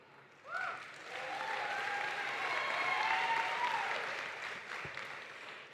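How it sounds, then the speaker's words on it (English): Graduation audience applauding at a Lincoln University commencement, a steady wash of clapping that swells in quickly, holds for several seconds and then slowly thins out, with some crowd noise mixed in. "you have to stop speaking for a minute so everybody can applaud"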